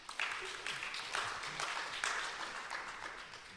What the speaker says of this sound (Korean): 박수 쳐주셔도 돼요